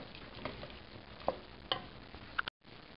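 Pumpkin soup base cooking in a pot, stirred with a few scrapes and soft clicks over a low steady bubbling sizzle, close and fairly quiet, with a brief dropout near the end.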